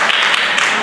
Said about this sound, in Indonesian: Tepuk tangan, Bu.